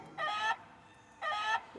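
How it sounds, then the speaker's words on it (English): A cartoon rooster crows twice, each call a bright, harmonic burst about a third of a second long separated by a short pause, clear and up close with no other sound. "A cock. A rooster."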